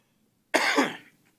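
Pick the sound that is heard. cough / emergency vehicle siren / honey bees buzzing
cough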